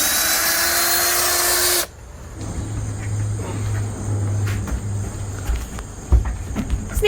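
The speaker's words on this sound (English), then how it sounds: "Rhianna bought me this drill, I wanna say 12 years ago." A loud, high-pitched power drill whirs steadily for about two seconds and then stops, leaving quieter shuffling, clicks and a low hum.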